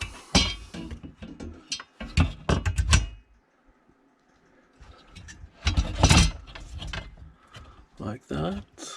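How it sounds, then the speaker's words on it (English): Screws driven in to mount a bracket for a champagne cooler fridge retrofit in a 2015 Mercedes S63 AMG, heard as bursts of close ratcheting, mechanical clicks and whirring separated by a quiet pause. "First we add these screws in the bottom."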